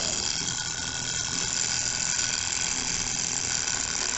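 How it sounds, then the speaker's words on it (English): A Barbie-size wind-up toy camcorder runs after being wound and switched on, its tiny mechanism giving off a steady, close, continuous whirring ratchet buzz with no pause for the whole stretch. "You just flip this little switch after you wound it. And there it goes."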